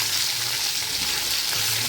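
Boiled potatoes sizzle steadily in hot oil while being stirred, a dense, loud, continuous frying hiss with no voices.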